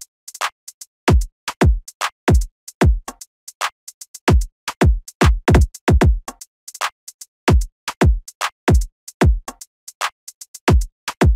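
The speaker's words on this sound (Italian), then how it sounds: "Classico doppio snare, fatto con questo rimshot qui" A busy hip-hop drum loop of crisp doubled snare and rimshot hits with scattered percussion, steady groove repeating for several bars, loud and dry with no voices.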